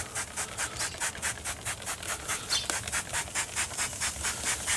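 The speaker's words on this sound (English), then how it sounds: "I'm gonna spritz them with some apple juice just to rehydrate." Pork ribs seasoned with a dry rub get spritzed with apple juice from a spray bottle during a cherry-wood barbecue cook, a rapid run of soft, even hissing bursts repeating steadily throughout, close and alone.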